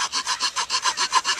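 A wooden bow-drill fire board being notched, cut about a third into the drilled hole: a steady back-and-forth rasping saw or file stroke repeating about eight times in quick even rhythm, close and clear with no talk.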